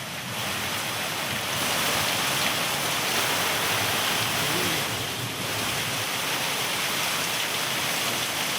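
Heavy, sudden downpour over Bengaluru, a dense steady roar of rain with a wind-like hiss that swells slightly in the middle and holds constant throughout, with no voices.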